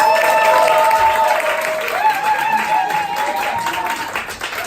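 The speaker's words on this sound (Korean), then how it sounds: "큰 박수와 함께 이분을 모셔보도록 하겠습니다" An audience at a beauty creator academy event applauds to welcome a speaker onto the stage, dense clapping that begins loud and slowly thins, with a tonal sound running beneath it.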